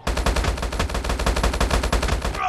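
Rapid tap-fired bursts from an HBRa3 assault rifle in the mobile shooter Call of Duty Mobile, loud, close, evenly spaced sharp shots filling the moment with no talking.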